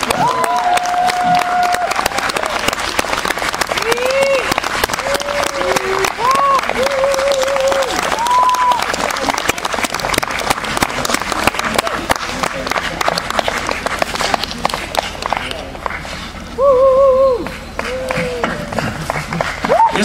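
Live concert audience applauding: sustained dense clapping from a crowd throughout, with a few whistles, and an amplified voice speaking over it.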